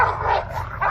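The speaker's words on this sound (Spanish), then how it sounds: "a la medianoche el perro empieza a ladrar" Dog barking at midnight, with a second of yappy, whimpering barks, loud and close, with no other sound.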